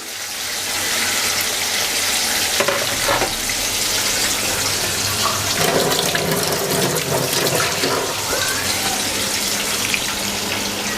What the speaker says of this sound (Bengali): বেশ কিছু বড়া আমি একবারে দিয়ে দিলাম।